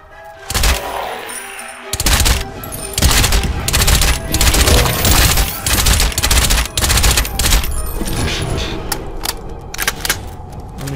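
Rapid bursts of gunfire in the video game Crysis 2 crackle almost nonstop, loud and dense, with heavy thuds and repeated volleys layered over one another.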